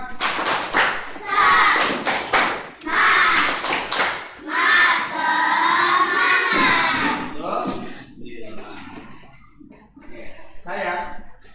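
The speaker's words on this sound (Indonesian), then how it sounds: "Tepuk semangat." Children in a classroom do a rhythmic spirit clap, patterned bursts of hand claps and thumps mixed with loud, chanted group voices, followed by quieter talk.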